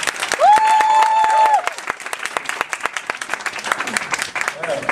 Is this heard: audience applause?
yes